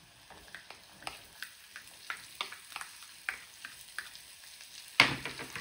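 Onion tossed into a pan of sautéed garlic for a foxtail millet Manchow soup, a soft sizzle with a string of light stirring taps, then a louder burst of frying near the end.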